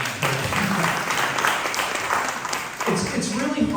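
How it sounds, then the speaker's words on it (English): A school audience applauds the Parents Association, and the clapping fills the room for several seconds. A voice speaks briefly over the clapping. "I want to just give a round of applause to the Parents Association once again"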